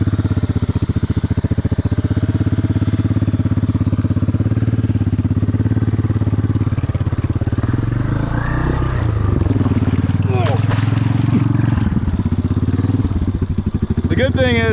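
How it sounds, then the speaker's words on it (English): A Honda Big Red ATV engine churns through a deep pond, a loud steady low-geared drone with splashing and sloshing water toward the end, with voices speaking over it at times. "Man, the pond is deep. Let's drive through it."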